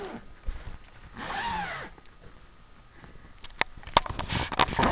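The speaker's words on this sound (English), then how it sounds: "And we're just going to unzip that here." A zipper is drawn open on a fabric-covered case, a short close rasp followed by handling and rustling noises.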